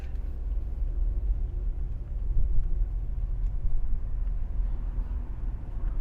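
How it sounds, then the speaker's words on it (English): A truck engine idles close behind a 2020 Chevy Impala LT stopped at a light, giving a steady low rumble that surges slightly midway. It carries on without pause and no one speaks over it. "Besides the sound of the idling truck behind us."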